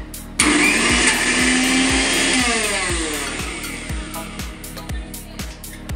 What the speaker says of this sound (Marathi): तर सुरुवातीला मी आता हे सगळं मिक्सरमध्ये ग्राइंड करून घेते।